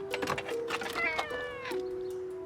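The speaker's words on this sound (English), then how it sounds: "the fleeing feline doesn't waste any time finding another hard-to-reach cranny to test Matt's cat-capturing skills" A fleeing kitten being herded during a rescue, its meow sounding as a few short, tonal cries close by amid light handling noise, followed by a steady sustained tone.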